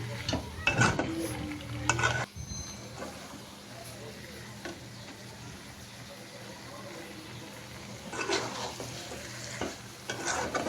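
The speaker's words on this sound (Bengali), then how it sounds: "সব শেষে টমেটো সস দিয়ে দিচ্ছে। তো এটা দিয়ে এখন নাড়াচাড়া করলেই রান্নাটা রেডি।" A cooking dish is stirred in the pan after tomato sauce goes in: bursts of scraping and clattering at the start and end, a low sizzle and hum between, with muffled voices in the background.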